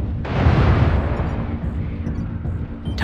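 A missile explosion in a video game: a loud, broad rumbling blast that swells in the first half second, then rolls on as a long, sustained roar for about three seconds before a sharp crack at the end.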